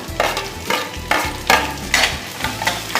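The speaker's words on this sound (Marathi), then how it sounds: "या भाज्या आपण तेलात परतवून घेऊया" Chopped cabbage, capsicum and long-cut green chilies are stirred in hot oil in a pan, giving a steady close sizzle broken by rhythmic scraping strokes about every half second.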